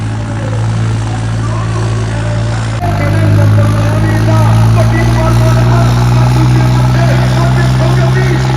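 A Swaraj 744 tractor at a trolley-pulling contest approaches with a loud, steady diesel drone whose low engine throb swells partway through and stays close and heavy.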